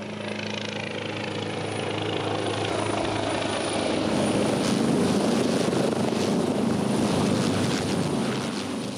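A rescue helicopter hovers over a beach for a winch airlift, its steady rotor and engine roar filling the air and swelling louder midway, with no voices.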